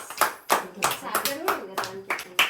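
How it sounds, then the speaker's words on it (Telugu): A small group clapping in celebration of a lucky draw winner, a run of sharp separate hand claps at a quick uneven pace, fairly close, with a voice speaking briefly among them. "okay claps congratulations"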